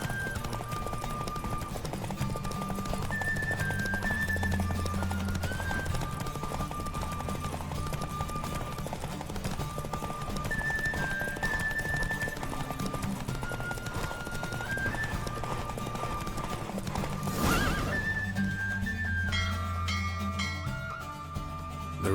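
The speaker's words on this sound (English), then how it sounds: "Don't spare the horse!" Horse hooves clip-clop steadily through a galloping ride in The Witcher 3, a continuous rhythmic thudding under game music, with a brief neigh or whinny near the end.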